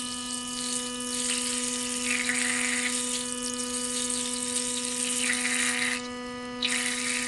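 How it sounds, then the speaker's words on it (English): A Sonicare electric toothbrush buzzes steadily in water, a constant high-pitched hum with splashy surging hiss that swells and fades, cutting out briefly near the end before resuming. "And lastly, we have a sonicare toothbrush."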